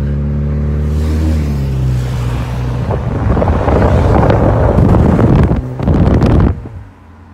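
A 2012 Kia Optima SX drives on the highway after a Seafoam induction service. A low engine drone early on gives way to loud, rushing road and wind noise, which drops off sharply at the end.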